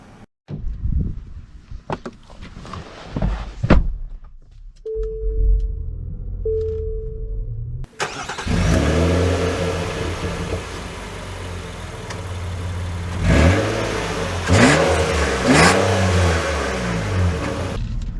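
A 2023 Nissan Pathfinder Rock Creek engine turns over and catches, then settles into a steady idle before revving up loudly a few times, close to the microphone.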